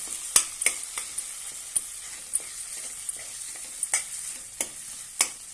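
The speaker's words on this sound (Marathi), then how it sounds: "आणि छानपैकी परतून घेऊया" Fresh pigeon pea seeds sautéed in a pan at home, a faint low sizzle broken by sharp scraping clicks of a spoon stirring at irregular intervals.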